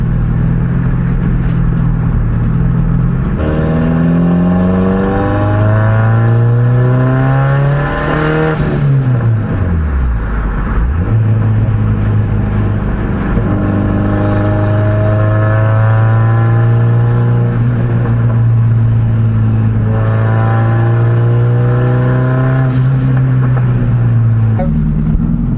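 An all-wheel-drive Honda Accord engine revs hard and sustained at close range, climbing in pitch, dropping sharply after a stumble near the middle, then holding a high droning rev again, the roar loud and continuous throughout.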